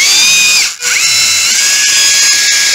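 Hilti or Makita hammer drill running at a loud, steady high-pitched whine, briefly cutting out and spinning back up as the hammer and speed modes are switched, heard close with no talking.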